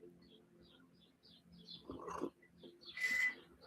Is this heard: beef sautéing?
no